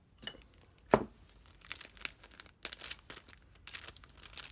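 Patterned craft paper from a scrapbooking kit crinkles and tears as it is handled up close, in sharp intermittent rustling bursts with no talking.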